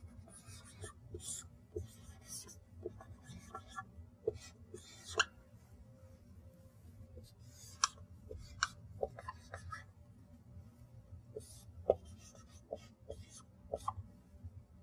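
Pen or chalk writing out a resistance equation during a lecture, heard as scattered short scratchy strokes and taps at moderate distance over a steady low hum, with quiet pauses between bursts.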